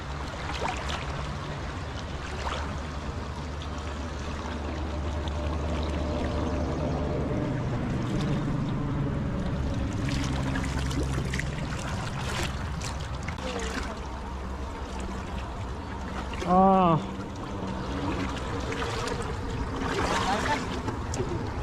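Strong river current rushing steadily during river trout fishing, a broad continuous wash of flowing water with occasional splashy surges and a brief tonal squeak, people speaking now and then.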